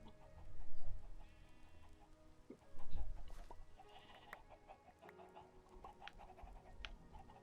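Farmyard hens in a video game cluck in scattered, fairly soft calls mixed with other livestock noises, and no one talks over them.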